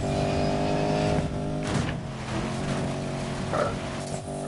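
Porsche Panamera Turbo racing off-road in Need for Speed Payback, a steady loud engine drone with tonal harmonics holding through, brief shifts and surges of revving near the middle and end, no talk over it.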